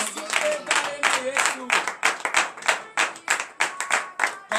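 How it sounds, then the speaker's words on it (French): Crowd clapping at a morning prayer gathering in Comè, Benin, loud rhythmic bursts of hands in a fairly regular beat with a few voices mixed in. "Je vous demande de donner l'acclamation"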